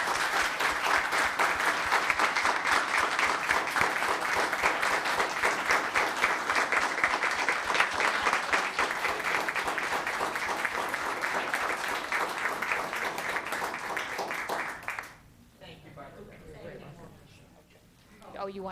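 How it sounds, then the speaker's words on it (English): Sustained applause from a town council meeting audience, a dense steady wash of clapping that holds for about fifteen seconds before cutting off abruptly into quiet room murmur and brief talk. "let's give them a round of applause."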